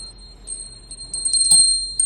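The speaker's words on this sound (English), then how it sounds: "That's the sound of the puja bell." A small puja bell rings with a clear high sustained tone, struck several times with a brighter peal toward the middle, somewhat distant in a quiet space.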